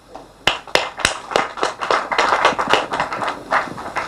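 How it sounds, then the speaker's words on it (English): An audience applauds at a trade cooperation agreement ceremony between Uganda's Busoga Region and China's Liaoning Province. A few sharp, separate claps open into dense, sustained clapping from many hands, fairly loud and steady, with no talking. "Another round of applause."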